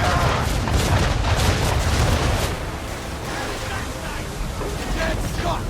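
Ship cannons in Assassin's Creed III fire in a heavy, booming barrage, a sustained loud rumble of blasts and roaring noise through the first half that eases into a lower, continuous din.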